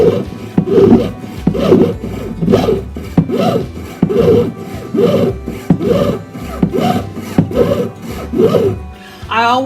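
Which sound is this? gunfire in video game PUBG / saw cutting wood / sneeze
saw cutting wood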